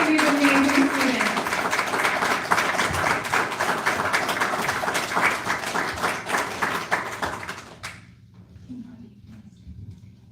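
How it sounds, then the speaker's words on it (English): An audience applauds students at a humanities academy capstone presentation: dense, even clapping from a crowd for about eight seconds, then stopping abruptly, with a voice speaking over the start and again after the clapping ends. "How about one more round of applause for these amazing students?"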